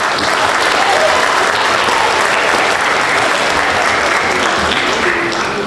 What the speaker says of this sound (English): So, round of applause to all of you.